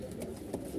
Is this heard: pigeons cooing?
yes